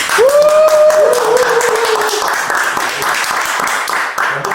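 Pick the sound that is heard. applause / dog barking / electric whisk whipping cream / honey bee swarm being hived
applause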